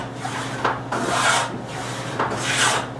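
Wooden plow plane cutting a groove in wood for a curved blockfront dressing table, rhythmic rasping strokes repeating about every second, close and moderately loud, with no talk.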